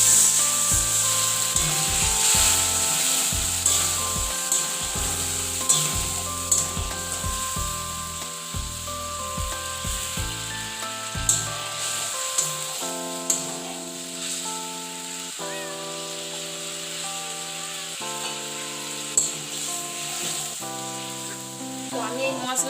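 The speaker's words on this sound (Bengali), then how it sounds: "মশলাটাকে কিছুক্ষণের জন্য ফুটতে দিচ্ছি" Masala gravy for a bhola fish curry sizzling and simmering in a pan after a little water is added, with a continuous hiss that runs throughout beneath steady background music.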